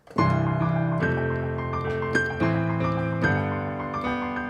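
A repeating piano figure cycles through a few sustained chords, each new chord struck with a clear attack and ringing on, played alone.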